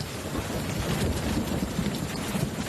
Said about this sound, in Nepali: हाम्रो यतातिर पानी पर्न लागिरहेको छ आज।